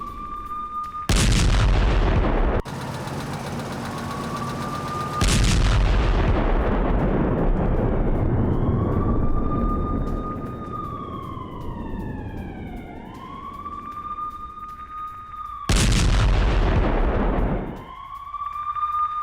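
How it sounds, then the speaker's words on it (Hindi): Ukrainian artillery fire from a Swedish cannon strikes Russian forces near Zaporizhzhia, with several loud, sharp broadband blasts and long rumbling decays, accompanied by a wavering siren-like whine throughout. "रूसी फौज पर भी आर्टिलरी से भीषण हमले किए जा रहे हैं।"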